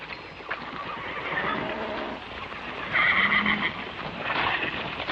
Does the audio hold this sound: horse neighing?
yes